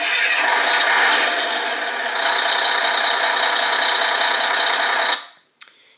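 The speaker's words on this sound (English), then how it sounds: "And an engine startup, which I think sounds pretty good." A 2013 Hess toy truck plays its electronic engine sound, a steady buzzing rumble that runs evenly from the speaker, then cuts off abruptly, followed by a short click.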